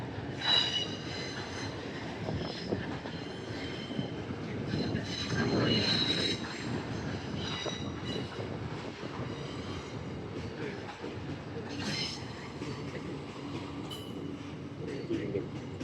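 A freight train rumbling steadily past nearby on the Doomben line in Brisbane, with wheels clanking and occasional high squeals over the continuous roll.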